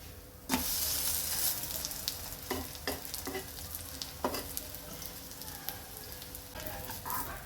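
Dankila, a crispy Gujarati snack, frying in oil in a pan, with a steady sizzle broken by several sharp clattering scrapes as the pieces are flipped; close and fairly loud, no talking.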